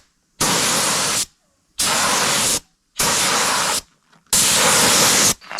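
Krylon and Rust-Oleum spray paint hisses from an aerosol can in four steady bursts of about a second each, loud and close, separated by short silent gaps.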